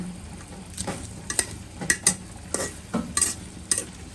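Whole spices, cinnamon, cloves, cardamom and bay leaves, stirred in a hot pan: a soft sizzle broken by several separate clinks and scrapes of the spoon, close and moderately loud, with no voices.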